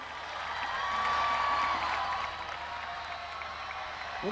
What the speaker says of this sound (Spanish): Un aplauso grande para todos los atletas y en especial a las mujeres atletas, por favor.